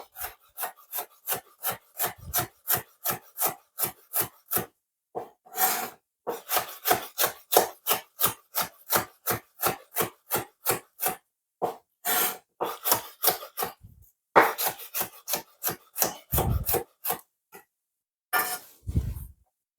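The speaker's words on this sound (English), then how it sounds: "So I'm going to julienne these." A knife julienning garlic cloves on a wooden cutting board: rapid, evenly spaced chopping taps in bursts of a dozen or more, close and crisp, with brief pauses between runs.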